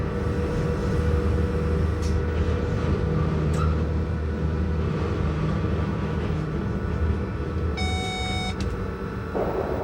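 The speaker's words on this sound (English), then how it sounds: "The loco hauling our train is one of the 8 Furka-Oberalp HGE 442 machines purchased in the 1980s from SLM with electrical equipment by BBC" The Glacier Express, hauled by a Furka-Oberalp HGE 4/4 rack locomotive built by SLM with BBC electrical equipment, gives a steady mid-level rolling rumble with faint clicks, and a short run of electronic beeps near the end.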